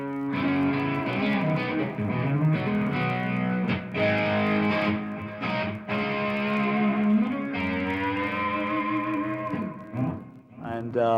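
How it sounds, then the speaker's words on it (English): Electric guitar through a Soldano amp with a stereo chorus effect, shimmering and slightly gritty, playing sustained chords and melodic lines steadily throughout. "stereo chorus, which I use for just a little bit of distortion"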